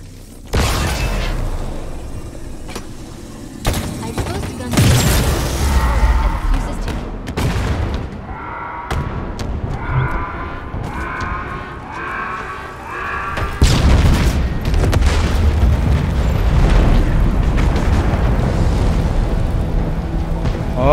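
Several big explosions boom in Halo Infinite, loud, close blasts spread across a stretch of combat with rumbling tails, debris-like clatter and a whining tonal sound between them.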